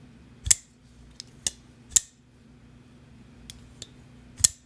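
Several soft, quiet clicks from a CMF Conquest custom pocketknife blade snapping open and shut, spaced irregularly with near silence between them.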